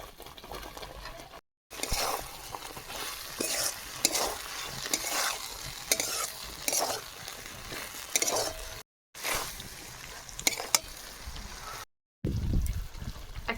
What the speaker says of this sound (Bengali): মশলা কষানো হয়ে গেছে ভেজে রাখা ফুলকপি দিয়ে দিচ্ছি